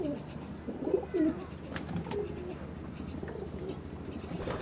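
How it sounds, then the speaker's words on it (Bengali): Chinese pigeons at a racing-pigeon loft coo in a few low, rolling phrases, moderately close, with quiet background hiss and occasional clicks. "এটা কি কবুতর চীনা কবুতর"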